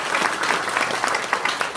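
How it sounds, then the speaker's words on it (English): Audience applause at a business Chamber event, a brief burst of close, crisp clapping from a modest crowd, steady and unbroken throughout. "Let's give the Chamber a round of applause."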